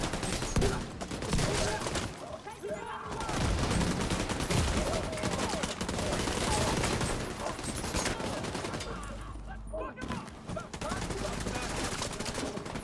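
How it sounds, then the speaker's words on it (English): Shotgun blasts and dense gunfire in the video game The Division 2, loud and continuous with repeated sharp bursts throughout, layered over game effects. "I shoot twice with the shotgun and they just disappear"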